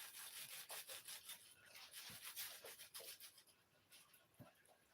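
Knife sawing through a toasted cheese and tomato sandwich to cut it into quarters, a close, steady scraping and crunching rhythm of repeated strokes across the crisp bread, no voices.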